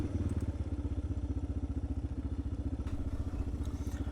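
A Suzuki DR 650 motorcycle ridden off-road through rugged rangeland in B.C.'s Chilcotin region, its single-cylinder engine thumping in a steady rapid pulse, close and loud, with no talk.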